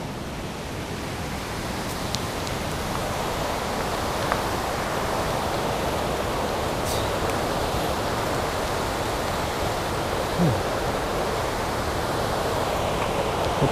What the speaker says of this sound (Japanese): 滝ある、滝ある。